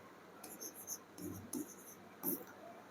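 Chalk or marker writing on a board during a Class 12 physics lesson on electric charge and Coulomb's law, heard as faint scratchy strokes in several short bursts against quiet room noise.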